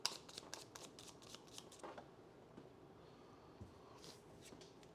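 Cards for the Aeon Trespass Odyssey board game are shuffled in a quiet room, a quick run of soft riffling flutters at the start that then thins to a few light taps and rustles.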